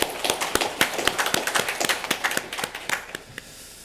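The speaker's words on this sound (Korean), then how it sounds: "우리 하나님께 감사와 영광의 박수 올려드리겠습니다." Congregation at a Sunday church service clapping in praise to God, brisk, fairly even claps from several people close by, building briefly and then thinning out and stopping near the end.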